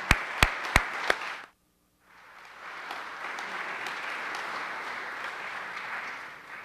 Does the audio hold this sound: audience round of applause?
yes